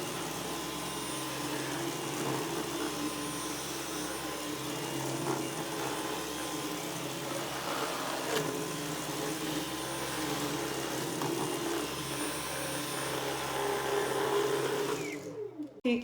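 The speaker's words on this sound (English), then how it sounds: "I think the vacuum does a really good job" Dyson V11 Absolute cordless vacuum cleaner running on a floor with crumbs, a steady high-pitched motor whine and airflow hiss held evenly for a long stretch before it cuts off abruptly.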